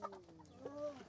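Chickens clucking softly on a pig farm, a few short wavering calls close by against a faint outdoor background.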